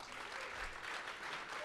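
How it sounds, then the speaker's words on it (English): An audience at an Alberta investment summit pitch night in Calgary claps briefly, the applause quiet and distant with faint voices underneath. "Give yourselves a round of applause."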